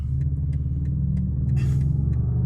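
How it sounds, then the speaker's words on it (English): A loud early Dodge Durango R/T passes nearby, a heavy, steady low engine rumble that swells slightly midway as it goes by, heard from inside a 2022 BMW M4 Competition xDrive. "Oh, it's a loud Durango."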